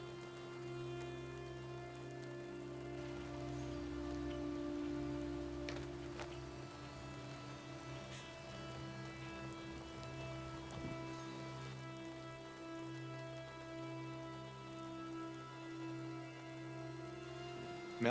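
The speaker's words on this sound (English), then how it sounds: "The rain's coming down steady outside, and everything's wet." Steady spring rain falls outside in Western New York, a constant wash of drops on wet surfaces that holds an even level throughout with no voices.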